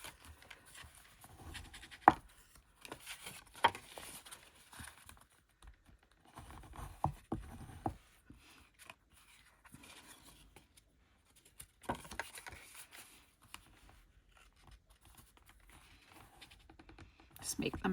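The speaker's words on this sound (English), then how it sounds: "So do score and burnish your folds." A bone folder scoring and burnishing folds in paper card for a Christmas pop-up card, soft scratchy rubbing and light tapping strokes in irregular bursts, quiet and close throughout.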